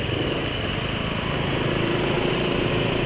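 A motorcycle engine running on Esso 4T oil idles with a rough, coarse tone, a steady close drone holding even loudness throughout with no talk over it.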